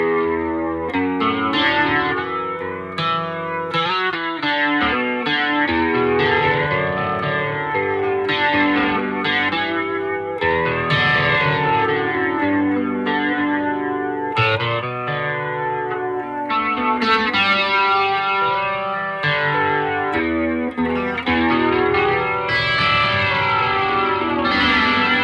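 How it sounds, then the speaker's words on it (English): Electric guitar played through a Yamaha THR10C amp with a flanger, sweeping jet-like swirls over sustained chords and picked notes. The whirling modulation runs continuously with no talking. "there's also a flanger on there for some classic sounds"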